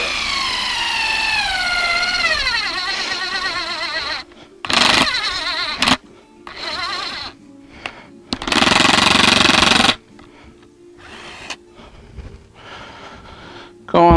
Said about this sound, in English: I feel I have to pre-drill it.